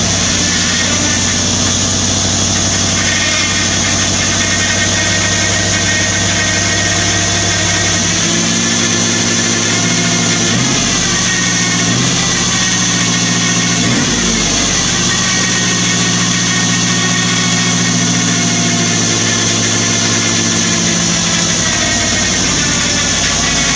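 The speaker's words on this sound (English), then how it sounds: "we're going to hit the key and see if it'll run" A Chevy S10 truck fitted with an LT1 V8 runs at a steady, loud idle throughout, with a deep low rumble and a few brief shifts in engine note partway through; no talking.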